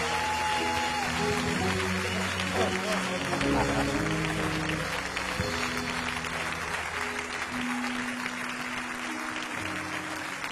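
A church congregation applauds and acclaims a newly appointed missionary alliance servant, with steady, dense clapping lasting throughout, accompanied by tonal voices or music underneath.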